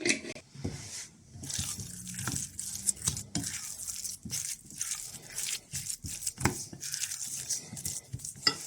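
Garlic and herbes de Provence are stirred together in a bowl for Scotch eggs, giving close, irregular scraping and clinking of a utensil against the dish, with soft wet mixing sounds and no talking.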